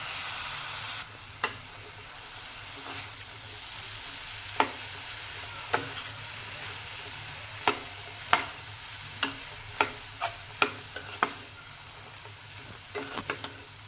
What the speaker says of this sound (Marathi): आणि भिजवलेले मुरमुरे आपण घालणार आहोत खूप वेळ हे गॅसवर ठेवायचं नाही आहे जस्ट मिक्स करायचं